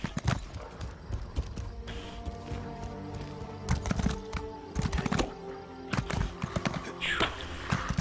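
Sorrel horse ridden in the video game Elder Scrolls Online, its hooves clip-clopping in close, uneven bursts of steps with pauses between, plus a brief whinny.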